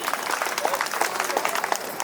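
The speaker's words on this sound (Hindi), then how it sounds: "ताली बजा दीजिए।" A crowd claps together at a Buddhist wedding stage function, a dense steady patter of many hands close by, lasting the whole brief moment with faint voices underneath.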